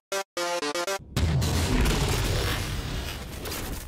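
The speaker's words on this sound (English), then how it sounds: "That is the incineration cannon from Halo 4" Incineration cannon from the video game Halo 4: a short run of bright mechanical charging chirps, then a heavy booming blast that trails into a long, crackling roar slowly fading away.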